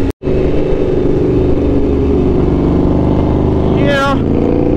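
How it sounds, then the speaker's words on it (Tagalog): Loud, steady exhaust drone of a Honda CBR1000RR-R Fireblade SP superbike in heavy traffic, running continuously near the listener, with a brief engine note rising near the end. "Sobrang ingay ng exhaust."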